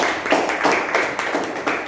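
Audience clapping at an Indonesian business sharing meeting, a steady wash of many hands with a few sharper bursts, moderately loud and continuous with no talk over it.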